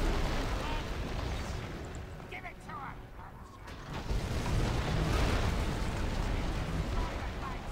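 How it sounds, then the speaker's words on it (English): Catapult impacts and explosions in The Battle for Middle-earth II video game, a continuous roar of booming blasts and rumbling barrage, loud and dense, with a voice talking over it. "Man, I like having tons of catapults, it's fun. Boom."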